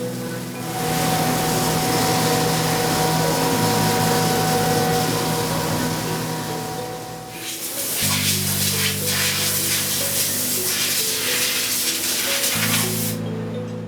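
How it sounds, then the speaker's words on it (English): A CNC mill cuts triangles from a solid aluminum block, with a loud, steady hissing spray of coolant over tonal spindle hum that shifts pitch partway through and pauses briefly. "4 triangles are precision milled out of each solid aluminum block"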